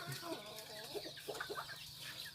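A bantam chicken makes a few soft clucks and short calls at fairly close range, scattered through a quiet farmyard background with faint low hum.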